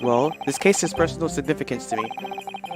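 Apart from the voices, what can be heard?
phone ringing in the room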